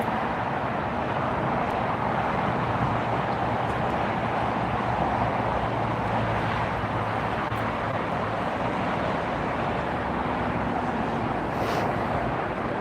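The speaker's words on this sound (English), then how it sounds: "That's JetBlue, just arrived from Boston at A321, 200 series" A JetBlue Airbus A321-200 jet airliner arriving at LAX from Boston makes a broad, steady roar that holds for the whole stretch, with wind buffeting the microphone and no voices.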